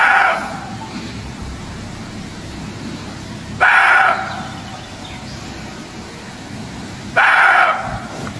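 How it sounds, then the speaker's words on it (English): A dog barking frantically on a forest path, three loud bursts of barking spaced a few seconds apart over a steady outdoor hiss, close by with no talk. "Her dog's ears perked up, his body tensed, before he erupted into frantic barking"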